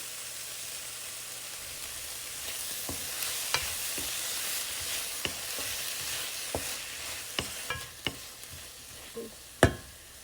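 Mushrooms and mixed spices for a creamy garlic mushroom sabji stir-fry in a pan with a steady low sizzle, punctuated by irregular scraping clicks of a spoon that grow sharper toward the end; nobody speaks.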